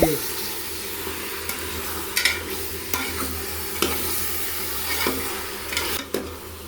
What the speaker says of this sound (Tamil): இப்போ எல்லாத்தையும் நல்லா கலகுவேன் பாரு.